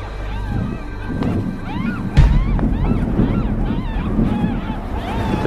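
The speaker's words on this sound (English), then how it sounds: "It's a very windy, rainy night." Heavy wind roars against the microphone on a windy, rainy night in Tasmania, with a rushing, surf-like wash, while voices or animal calls rise and fall faintly over it.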